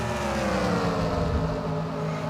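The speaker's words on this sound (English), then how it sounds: "Let you hear the roar of the engines as they pass by." Race car engines roar past in the NR2003 racing video game at Charlotte Motor Speedway, a loud, dense, sustained drone of several cars with shifting pitch, close and continuous with no talk.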